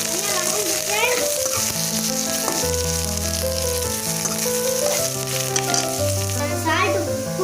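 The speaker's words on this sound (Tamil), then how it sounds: "சேர்த்துட்டு நல்லா வதங்கட்டும் ஃப்ரெண்ட்ஸ்." Radish sizzles and sautés in a hot pan for chutney, a continuous frying hiss with occasional stirring, heard under loud melodic background music.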